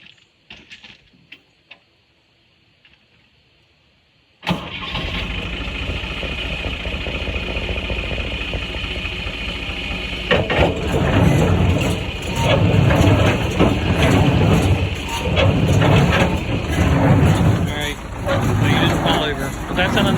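A tractor engine on an Allis Chalmers 444 baler setup catches after a few faint clicks and settles into a loud, steady idle with rhythmic mechanical clatter from the baler, close to the microphone.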